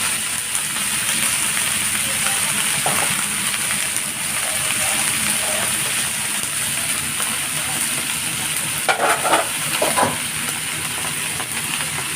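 Winged beans stir-fried in a home kitchen pan, giving a steady broadband sizzle and hiss throughout, with brief louder clatters of stirring near the end and faint talk underneath.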